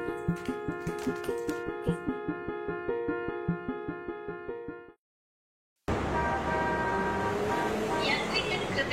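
A train at a railway station, with a steady broad rumble and horn-like tones filling the last few seconds after a brief silence. Tonal music plays over rhythmic beats before that.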